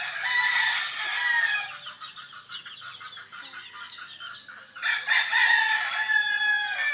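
Gamefowl chickens and roosters in a small backyard coop, with several overlapping crows and clucks ringing out close and loud, easing briefly mid-clip before a fresh burst of crowing near the end.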